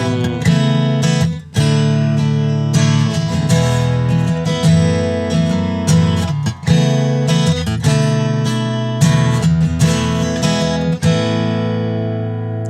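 An acoustic guitar plays a progression moving from A to a D2 voicing, walking through the third in the bass. Strummed chords ring out in a steady rhythm and stay up close, with the last chord fading at the end.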